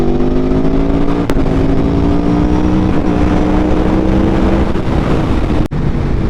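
A motorcycle engine drones loud and close at a sustained high pitch, rising gradually as the rider pushes on, with a couple of brief clicks or gear shifts breaking the continuous roar.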